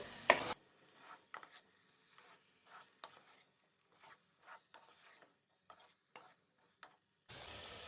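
Chicken with spices and salt being stirred in a pot for a carrot chicken curry: soft scraping and rubbing strokes in short bursts, with quiet gaps between them.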